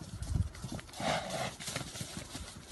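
Horse hooves clip-clop in a quick run of hollow knocks over a noisy outdoor background, fairly close.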